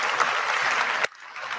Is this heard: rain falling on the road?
no